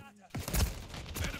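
Gunfire rattles in Call of Duty: Modern Warfare 3, a rapid burst of loud, booming shots filling most of the moment after a brief voice.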